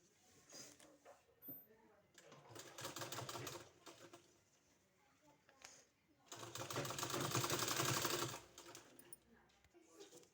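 A sewing machine stitching a 2.5-inch fabric strip for palazzo pants runs in two bursts, a shorter one early and a longer louder run later, with quiet handling between.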